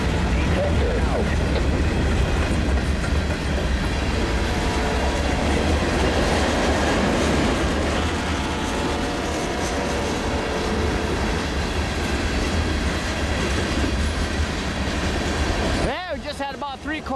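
CN L571 freight train with Century power rolls over powder-snowed rails, a steady loud rumble with clickety-clack wheel noise and squeal lasting throughout, tapering near the end with some voices under it.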